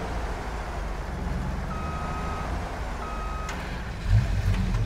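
Truck reversing beeps in the Farming Simulator video game on an Alaska map, two steady tones repeating over a constant engine rumble, with a brief louder thump near the end.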